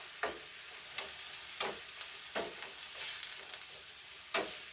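Onions and spinach fry in a small saucepan with a steady broadband sizzle, broken by several sharp scraping stirs at irregular intervals, close and fairly quiet with no talking.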